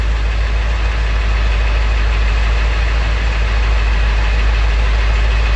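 A 7.3L Powerstroke diesel engine in a one-ton dump truck idles loud and close with a steady, slightly choppy low rumble, no voices over it.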